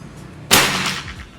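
A single sharp shot from a double-plenum PCP air rifle cracks out loudly, then trails off into a brief echoing decay.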